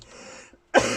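A single close, loud cough bursts out after a brief pause, following a moment of quiet breathy throat noise.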